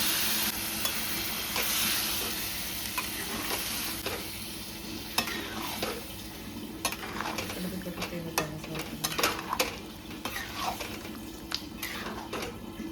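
Milk poured into a sizzling pan of cashew paneer gravy, a steady hiss of frying with stirring and scraping against the pan close by, interrupted by a few clinks of utensils.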